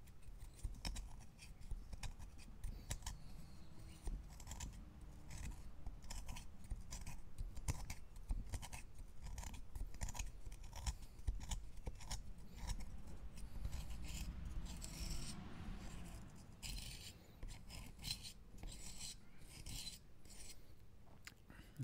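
Hand tool scraping charred material out of the inside of a whittled wooden cup, a steady rasping scrape repeated in quick strokes, close and continuous throughout.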